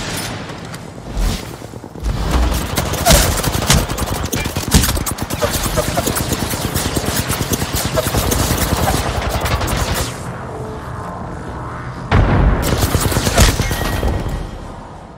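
Rapid bursts of gunfire from the Apex Legends battle royale game, dense and loud for most of the stretch, with a short lull before another heavy volley near the end.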